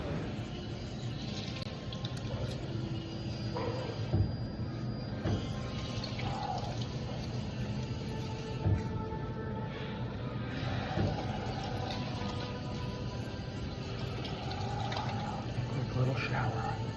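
A small shower runs in a steady, even hiss of spraying water, close and constant throughout, with faint splashes and knocks now and then.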